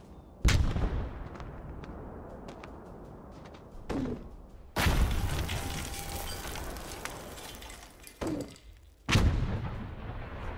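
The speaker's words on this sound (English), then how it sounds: "Deploying light support weapon." A light support weapon firing in a war video game set on the outskirts of Brest, four sharp, heavy bursts spaced a few seconds apart, each followed by a rumbling decay, loud and close.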